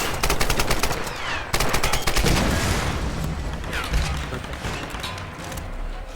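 Machine gun fire from the Tomb Raider game rattles in long, rapid bursts, loud and dense, with overlapping shots and booms and a brief gap between volleys.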